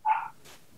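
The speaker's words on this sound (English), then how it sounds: "One of the dogs might have something to say." A single short dog bark, close and fairly loud, sounds during a city council meeting and is followed by quiet room tone.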